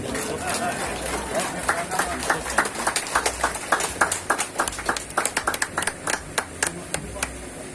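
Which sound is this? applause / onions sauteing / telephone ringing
applause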